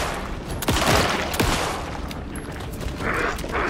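Sharp gunshots ring out in the survival horror game Alan Wake 2, a few loud cracks over a dense, rumbling game soundscape, with a bright ringing tone near the end.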